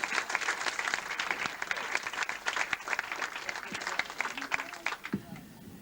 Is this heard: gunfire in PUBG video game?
no